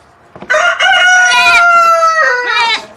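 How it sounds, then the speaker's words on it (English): Rooster crowing close by during morning farm chores, one full loud cock-a-doodle-doo lasting over two seconds with a drawn-out middle note, preceded by faint clucking. "Well, good morning to you, Rooster."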